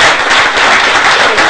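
A church congregation applauds in a loud, dense burst of clapping that stays close and even for a moment.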